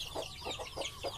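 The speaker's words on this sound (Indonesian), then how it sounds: "Ini ayam-ayam aduan saya." Fighting chickens give soft, rhythmic clucks, about five short low notes in quick succession, faint and at a slight distance over steady background noise.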